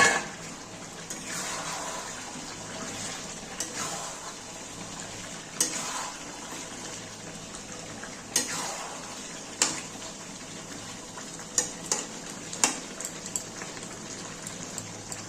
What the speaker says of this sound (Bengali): আলুটা দিয়ে আবার একটু কষিয়ে নেবো ভালো করে।